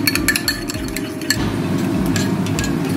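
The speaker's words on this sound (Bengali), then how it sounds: "লবণ আর চিনি একটুখানি আমি টক দইতে দেব, দিয়ে ভালো করে আমি দইটা ফেটিয়ে নেব।" Sour yogurt being whisked with salt and sugar for a Kashmiri chicken dish, giving steady close stirring and light clinking of utensil against bowl throughout, with no talk.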